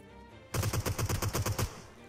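Rapid automatic gunfire from a shooting video game, a burst of about a dozen evenly spaced loud shots lasting just over a second after brief quiet, with no talking.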